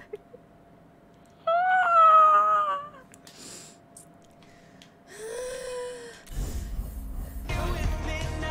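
A cat in a video game meows several times in drawn-out, rising cries, clear and close, between quiet stretches and a burst of noisy rustling near the end.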